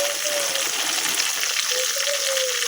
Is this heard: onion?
yes